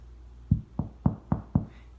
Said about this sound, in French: Je frappai à la porte